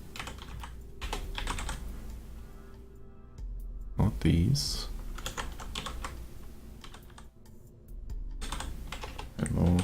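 Someone types on a computer keyboard in uneven bursts of clicking keystrokes, close and fairly clear, while a person talks over it.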